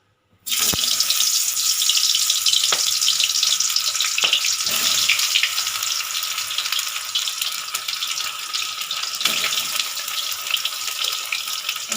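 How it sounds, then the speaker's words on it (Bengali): Pointed gourd (potol) pieces drop into hot oil for a potol chingri dish, setting off a sudden loud hiss that settles into a steady, bright sizzle with a few scattered pops and no talking. "তেলটা একটু গরম হয়ে গেলে আমি পটলটা ভাজা বসিয়ে দেব"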